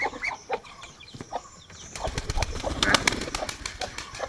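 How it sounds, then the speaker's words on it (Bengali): Ducks and chickens in a home yard in the morning, making scattered clucks and calls with soft flutters and rustling, growing busier and denser partway through. "প্রতিদিন সকালবেলা উঠে আমি এই হাঁস মুরগিগুলিকে খাবার দিই, ওদের ছেড়ে দিই, ওরা খাবার খায়।"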